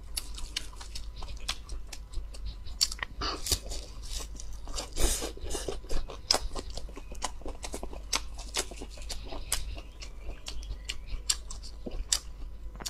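Crunchy fresh, tender, slightly bitter greens being bitten and chewed up close, a steady run of sharp crisp crunches and wet chewing clicks with no talking.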